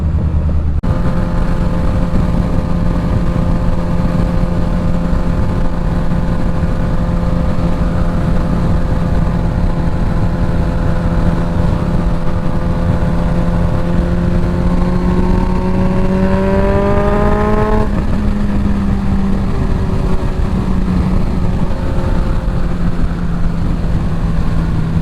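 A 2025 Suzuki GSX-S1000 fitted with a full Dominator exhaust is ridden at a steady cruise, giving a loud, continuous engine drone. Near the end the pitch rises with acceleration, then settles into a sustained roar with no talking.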